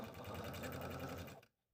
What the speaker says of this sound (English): So go ahead and go sew those on now.